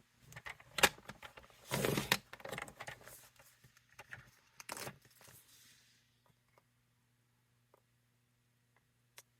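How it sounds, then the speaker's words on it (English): Paper strips for a card are trimmed on a cutter, giving quiet clustered slicing and sliding sounds over the first six seconds, followed by sparse faint ticks against a low background hum. "I'm going to cut all these at 1/2 of an inch."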